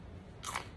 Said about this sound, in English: These are my favorite crunchy snacks.